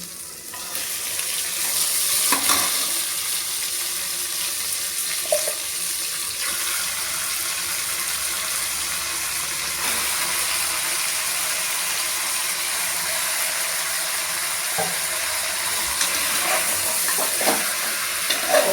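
Meat curry sizzles steadily in a pan while being stirred, a continuous close frying hiss with occasional scraping clicks from the stirring utensil.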